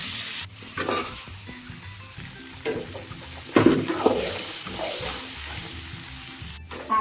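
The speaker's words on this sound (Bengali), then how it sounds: "গরম হয়ে গেছে, আমি কাঁকড়াগুলো দিয়ে দিচ্ছি।" Crabs dropped into hot oil seasoned with salt and turmeric in a pan, loud bursts of sizzling and spattering with stirring scrapes, the frying swelling as pieces hit the oil.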